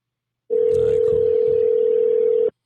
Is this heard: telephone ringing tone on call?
yes